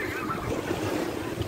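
Sea waves at a beach wash in as a steady broadband rush with low rumble and wind noise against the microphone, continuous and fairly close throughout.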